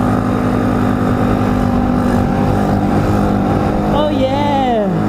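An Apollo RFZ Chinese dirt bike engine runs with a constant rough drone, while voices talk over it. A rising tonal whine enters near the end.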